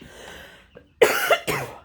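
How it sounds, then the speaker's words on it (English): A few sharp, rough coughs close by, starting with a faint throat sound and then two loud bursts. "Sorry, coughing fit."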